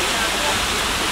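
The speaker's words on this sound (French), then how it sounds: "Là c'est la cascade." Cascade fountain in the Peterhof gardens near Saint Petersburg, heard as a dense, steady roar of falling water, loud and close, with no breaks.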